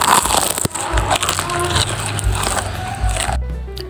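Crunchy bites and chewing on a crispy deep-fried cromboloni pastry, a dense crackling close to the mic that runs steadily, then cuts off abruptly near the end.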